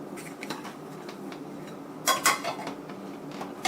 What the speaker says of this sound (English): And just stir that in.